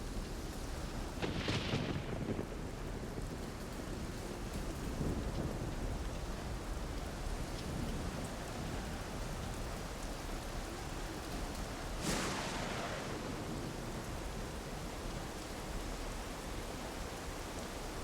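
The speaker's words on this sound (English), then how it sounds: "You can hear the distant rumbles of thunder coming from what must be a few kilometres away" Steady rain pours over a river valley in the uplands during a thunderstorm, with low distant rumbles of thunder rolling in a couple of times beneath the constant hiss of rainfall.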